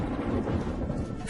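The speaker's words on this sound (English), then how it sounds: "A storm approaches." A low, rumbling roll of thunder from an approaching storm over grassland swells briefly, deep and heavy, with a faint hiss of wind or rain behind it.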